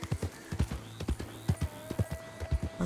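Horse hooves clip-clop at a steady walking rhythm in Red Dead Redemption 2, close and distinct, with a faint in-game ambient tone running beneath the repeated paired hoofbeats.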